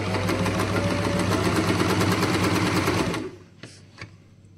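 An Usha Janome Stitch Magic sewing machine stitches in a fast, steady, close-up mechanical rattle for about three seconds, then stops, leaving a couple of soft clicks.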